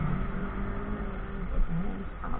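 Engine drone from a motorcycle ridden at night, heard as a steady mid-level hum with a slight rise in revs partway through, no talking.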